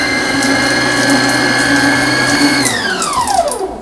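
An Acekool 7.5-quart electric stand mixer runs steadily at its lowest speed with a close, loud motor whine. Near the end its pitch drops as the machine winds down.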